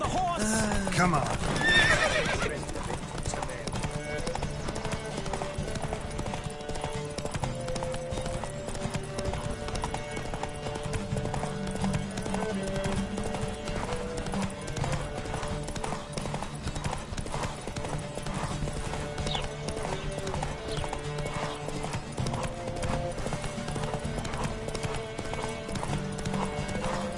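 Horses gallop in a video game horse race, with a steady rapid clip-clop of hooves close by and a loud whinny near the start, kept under continuous music-like tones for the whole stretch.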